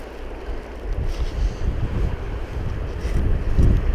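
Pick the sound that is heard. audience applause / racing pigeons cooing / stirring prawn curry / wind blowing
wind blowing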